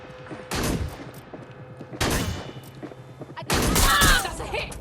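Gunfire in the Watch Dogs: Legion video game comes as three separate sharp bursts of shots about a second and a half apart, loud and close, each with a short ringing tail.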